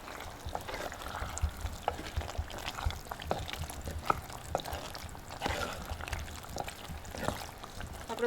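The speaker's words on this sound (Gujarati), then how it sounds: "થોડું પાણી નાખવું પડશે એટલે થોડું પાણી નાખી દઈ" Water goes into a hot cooking pot of potato curry, with crackling sizzle and scattered small clicks and taps.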